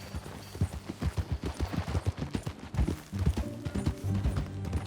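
Horse hooves clip-clop in Red Dead Redemption 2, a steady, fairly close rhythmic run of hoof beats over a low background of game ambience, with no talking.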